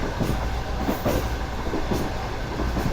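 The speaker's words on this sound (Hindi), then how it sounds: "फिलहाल U40 अच्छी रफ्तार में आगे बढ़ रहा है मिलत एक्सप्रेस की तरफ।" The Pakistan Business Express train runs along the track on its Karachi to Lahore route, a steady close rumble from inside with faint rhythmic wheel clacks.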